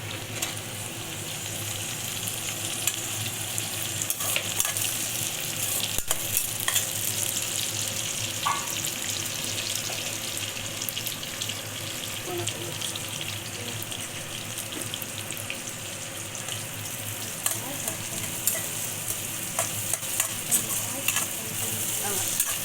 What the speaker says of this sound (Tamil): வெங்காயம் பூண்டெல்லாம் நல்லா வதக்கிடுச்சு. நெக்ஸ்ட் நான் தக்காளி போடுறேன்